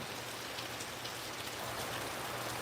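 Rain falls steadily among trees, a soft continuous patter of drops on leaves and surfaces, fairly quiet and even, with no voices.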